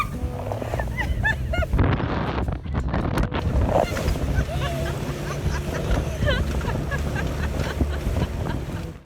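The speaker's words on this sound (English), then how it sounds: "it was time to brave the dinghy ride back to the boat" A small dinghy motors back to an anchored sailboat, its outboard droning steadily under wind buffeting and splashing water, with voices talking over the ride.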